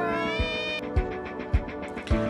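A cat fighting another cat lets out a sustained, strained yowl, with rhythmic thumping scuffles about every half second beneath the drawn-out cry.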